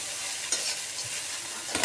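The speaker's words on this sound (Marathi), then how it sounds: "छान असे हलवून घ्यायचे." Kande pohe, flattened rice with onion, stirred in a frying pan, with a steady broadband sizzle and scraping spoon strokes, louder bursts near the start and end.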